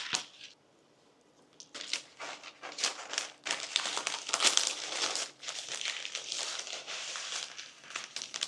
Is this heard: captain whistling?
no